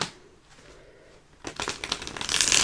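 Tarot cards are shuffled in a quiet room, with soft riffling that swells into louder, rapid papery flutters near the end.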